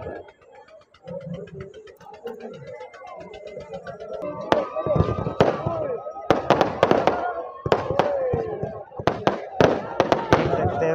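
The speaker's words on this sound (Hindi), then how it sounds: "देख सकते हैं फायर क्रैकर का शो।" Firecrackers go off at a Dussehra celebration in a series of sharp, loud pops and bangs, some in quick clusters, over crowd noise, with a person talking in the background early on.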